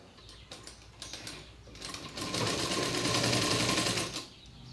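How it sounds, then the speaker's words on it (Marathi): A sewing machine runs steadily, stitching blouse fabric with lining folded under, its whirring motor and rapid needle clatter close and clear, speeding up into a continuous run for a couple of seconds before stopping. "बरोबर या पद्धतीने शिलाई करून घ्यायची म्हणजे फिनिशिंग छान येते"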